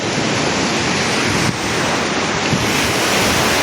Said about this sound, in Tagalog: hindi gaano malaki yung mga alon